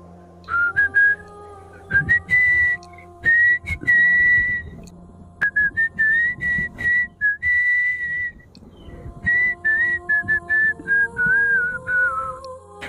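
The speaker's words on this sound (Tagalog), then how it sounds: "Pipito-pito pa nga siya noon habang naglalakad." A man whistling a wandering tune while walking along, loud and close, in short phrases with brief breaths between them over a low background hum.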